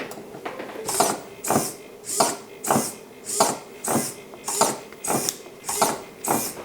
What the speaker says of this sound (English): once I switch on the board, it should start flipping between two positions